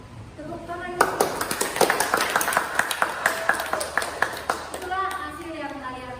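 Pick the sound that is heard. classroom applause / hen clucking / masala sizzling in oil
classroom applause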